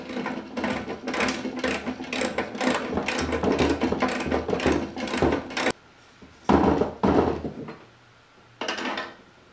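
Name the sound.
ratchet tightening a cargo carrier mount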